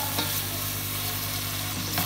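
Onions and tomato frying in a pan for aloo pulao, a loud, dense, continuous sizzle heard up close, with a couple of brief scraping stirs and no talk.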